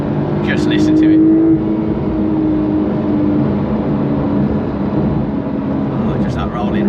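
Porsche 911 992 Carrera 4 GTS on the road, heard from inside, with a steady, loud engine drone and a deep rolling hum that continue throughout, with short bursts of higher tone near the start and the end.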